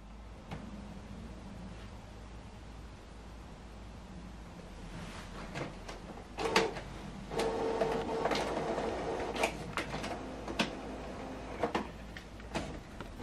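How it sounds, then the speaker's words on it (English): A Canon PIXMA TR7600 printer whirs and clatters nearby printing a test page, with mechanical clicks and rolling feed noise building partway through and continuing in uneven bursts. "Data has been sent to check the printer is operating correctly."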